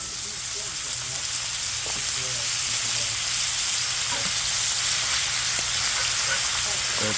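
Butter sizzling and frying in a hot pan while a chuck roast is butter-basted, a steady loud crackle running throughout with occasional sharper pops and faint clinks.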